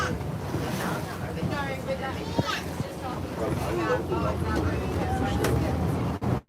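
A small boat speeds across open water, with steady broadband rush and spray spattering close to the microphone, along with buffeting wind, while voices murmur beneath the noise.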